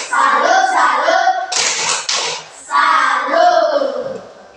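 Schoolchildren in a classroom chant the rhythmic 'tepuk salut' clapping cheer for a group. Loud group voices chant in unison around a burst of several quick, sharp hand claps near the middle.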